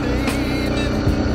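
A BMW G 310 GS motorcycle (2023) riding, with a steady low engine drone running throughout at a constant close level and no voices.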